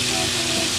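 Cooking oil hissing and sizzling steadily while chicken chop fries in a home kitchen, a dense, continuous, fairly loud crackle with no break.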